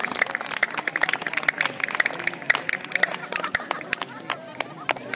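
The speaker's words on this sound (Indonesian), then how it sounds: "Tepuk tangan dulu untuk Ririn Marlina." Scattered hand claps and light applause from a small crowd greet performer Ririn Marlina, with voices chattering underneath throughout.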